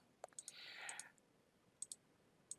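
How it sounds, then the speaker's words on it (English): Computer mouse clicks while working in Inkscape: sharp, quiet clicks in a few small groups, separated by pauses, with a brief soft rustle in between. "Okay, so I'm just clicking."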